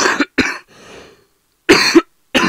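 Several sharp, close coughs come in bursts: two quick ones, then a softer rasping breath, and after a pause a harsh double cough followed by the start of another.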